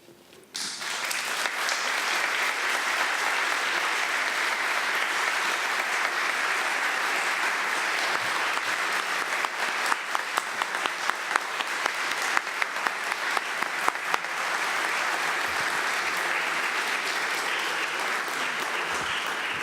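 Audience applause after a declaration of solidarity with Nicaragua, a steady wash of many hands clapping that starts abruptly and holds for about twenty seconds, with sharper individual claps standing out near the middle.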